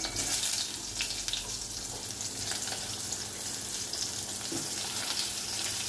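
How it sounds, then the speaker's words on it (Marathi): Stuffed brinjals (bharleli vangi) hiss and sizzle in hot oil, a dense, steady frying crackle that starts loudest, then settles into an even sizzle close by. "आता हे तेल तापलेलं आहे, ह्याच्यामध्ये आपण ही वांगी अशी सोडूया, त्याचा चर आवाज यायला पाहिजे"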